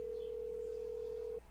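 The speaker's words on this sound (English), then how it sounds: "Here's my phone. Use it to call Miss Cleopatra." A telephone dial tone hums as a single steady, clean note for over a second on a phone being used to place a call, then cuts off abruptly, with no talking.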